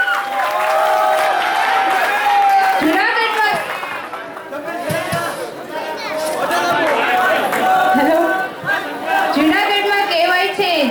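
An audience at an annual college function claps and cheers for two performers, a dense wash of applause mixed with lively crowd chatter and shouting voices throughout.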